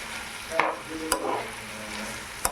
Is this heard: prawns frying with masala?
yes